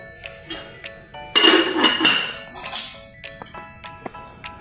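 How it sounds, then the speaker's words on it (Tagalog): A metal lid clinks onto a rice pot, which is then set on the stove with a few sharp clanks and a brief clattering burst among quieter taps, over soft background music. "Takpan na ito at isalang na sa apoy."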